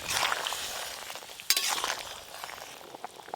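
Fried shrimp go into a bubbling Bengali sour curry with taro; a lively simmering sizzle with stirring, broken midway by a sharp splash and a burst of frying as the shrimp drop in.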